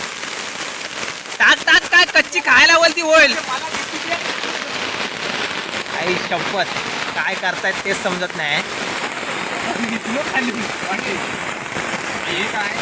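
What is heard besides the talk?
heavy rain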